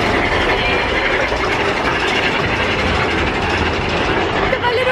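A small ride train rolls along at Disneyland, a steady broadband rumble and rattle of the cars on track filling the whole stretch, close and loud with voices faintly mixed in.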